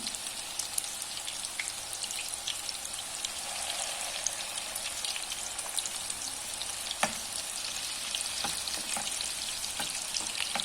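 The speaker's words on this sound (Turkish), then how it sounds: "Sadece e, tavada kızartacağım." Steady hiss and crackle of chicken breast meatballs frying in a hot pan, with a few sharper pops and spatters through the sizzle.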